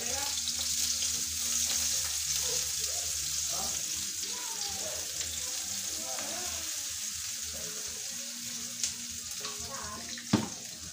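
Onions frying in a pan after crispy garlic, a steady close sizzle with occasional stirring clatter and a sharp knock near the end.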